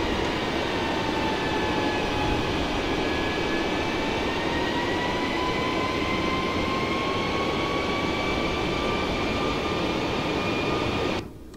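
Airbus A320neo cockpit in Microsoft Flight Simulator during approach, with a steady loud broadband engine and airflow roar carrying faint tonal whines, continuous throughout and cutting off at the very end, without talk.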